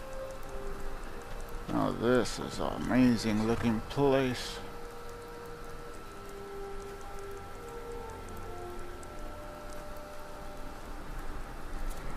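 Steady rain falls throughout a scene in the video game Skyrim VR, a constant soft hiss of drops while someone speaks briefly over it.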